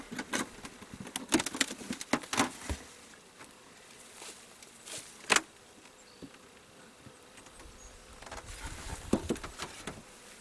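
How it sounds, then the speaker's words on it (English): Honey bees buzzing around an opened hive, a faint steady hum with scattered close taps and knocks of the lid and frames. "Alright, I got bees on the lid and bees in the box."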